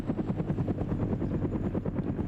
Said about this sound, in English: Blue 4 flying over with the helicopter here